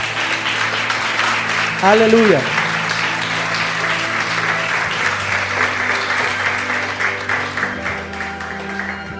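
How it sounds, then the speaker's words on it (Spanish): A church congregation gives sustained applause, a dense, steady clatter of many hands, while a voice calls out over it and the clapping tapers slightly near the end. "Dele un aplauso a Dios"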